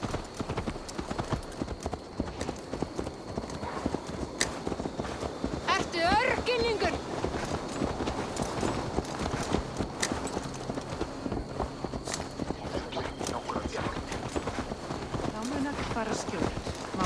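A horse's hooves clip-clop in a steady walking rhythm throughout a scene from Assassin's Creed Valhalla, with a voice talking over the hoofbeats.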